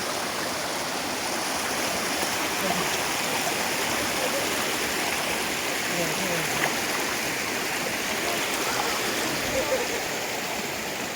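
Nozhatieh waterfall and stream, a constant broadband rush of flowing water filling the whole clip at an even, fairly loud level, with faint voices partly buried beneath it.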